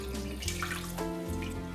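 Tap water pours steadily into a pot of pork bones being prepared for blanching in a home kitchen, a close, continuous splashing stream.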